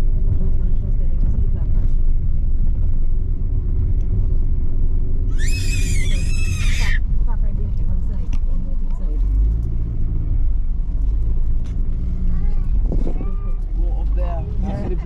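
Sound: car engine creeping up a steep farm track

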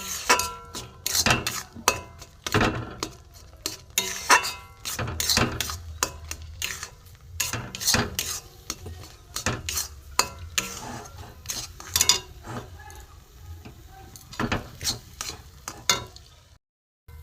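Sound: cooking semolina into a dry dough in a pan

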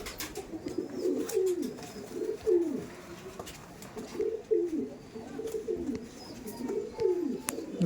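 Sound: pigeons cooing in a loft

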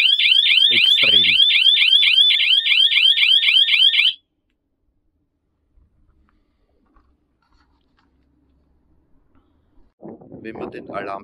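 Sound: CarPro-Tec GPS car alarm system siren sounding

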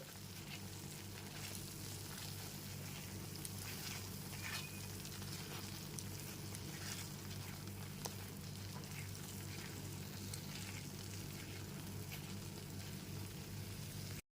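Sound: coriander powder being stirred and fried in a pan on low flame

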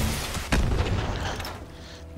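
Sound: gunshot in the video game Fallout 76

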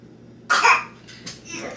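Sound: child coughing

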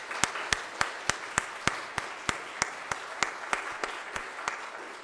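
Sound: congregation applause

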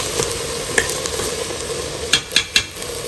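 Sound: washed basmati rice frying in oil and ghee

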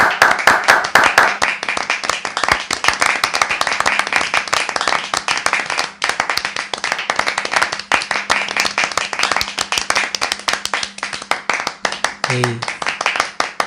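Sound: audience clapping to welcome new church elder

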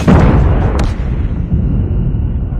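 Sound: enemy airstrike explosions in a battle royale video game

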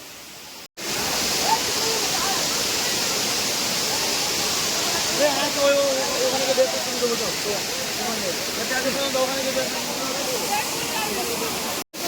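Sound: waterfall

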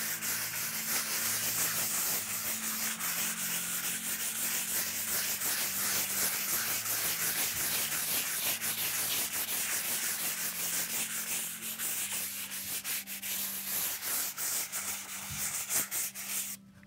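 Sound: sanding a panel with 220 sandpaper

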